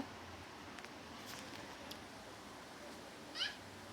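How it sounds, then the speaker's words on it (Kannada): Cats gathered around freshly cut fish give a few faint, distant meows against a quiet outdoor background, with one slightly clearer cry near the end. "ಬರೀ ಬೆಕ್ಕು, ಎಲ್ಲಿ ನೋಡಿದ್ರು ಬೆಕ್ಕೆ ರಾಶಿ."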